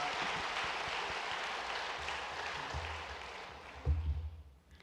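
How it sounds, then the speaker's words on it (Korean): Congregation applauding to welcome newly introduced members during a Sunday church service, a steady dense clapping that holds for several seconds and tapers off at the end, with low rumble near the close. "큰 박수로 환영하겠습니다."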